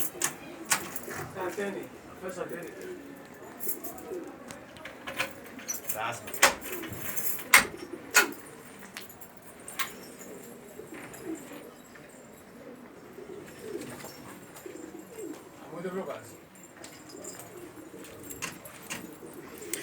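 Homing pigeons coo softly in a loft beneath someone talking nearby, with scattered clicks and light metallic jingles.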